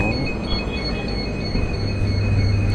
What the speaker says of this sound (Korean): 온다 트램